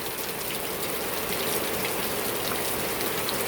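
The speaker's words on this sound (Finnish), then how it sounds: "No ei ihme, että on tulvavaroitusta annettu, kun näin paljon sataa." Heavy rain pours down steadily near a greenhouse, with water gushing over a gutter into a pond, a dense, close, constant hiss with no voices.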